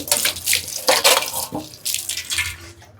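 Tap water runs in bursts at a kitchen sink while a plate is washed for a home biryani cook, splashing and gushing loudly in several surges with brief pauses, no talk.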